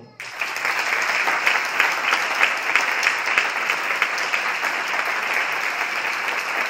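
A room full of people at a class discussion session claps together, with sustained, dense applause that starts suddenly and carries on evenly at a steady level.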